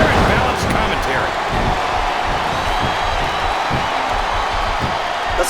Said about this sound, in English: Listen to the crowd, JR. I think they've got something to say to these superstars.